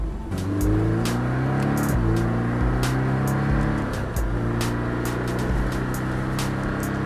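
Porsche Cayman S engine building speed progressively through a turn at the Le Castellet driving centre, loud in-cabin revs climbing in repeated sweeps with short drops between shifts, no voices over it.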